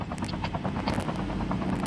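Helicopter in an online shooter game, a close, continuous rotor chop pulsing rapidly over a low engine drone throughout.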